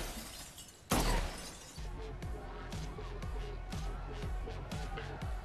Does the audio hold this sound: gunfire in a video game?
no